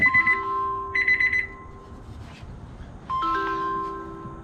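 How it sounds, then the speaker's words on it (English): A meat thermometer's temperature alarm beeps repeatedly while smoking a brisket, a few bursts of high pitched tones then a longer steady tone, close and fairly loud with no talk. "there's my alarm"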